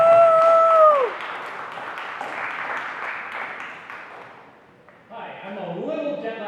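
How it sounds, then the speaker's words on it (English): An audience claps at a hackathon opening ceremony, a swell of applause after a short electronic tone, thinning out before a brief spell of other sound at the end. "So let's give a round of applause."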